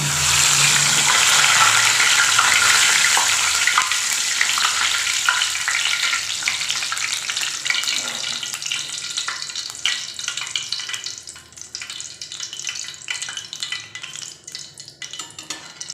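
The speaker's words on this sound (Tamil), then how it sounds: "கொஞ்சமாக கருவேப்பிலையும் பொரிச்சிக்கலாங்க" Curry leaves fry in hot oil for peanut pakoda, a loud, close, crackling sizzle that bursts strongly at first and then thins into softer, scattered spitting, with no voices.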